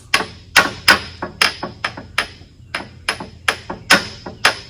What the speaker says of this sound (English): I'm gonna take a hammer and pop that up and see if it moves.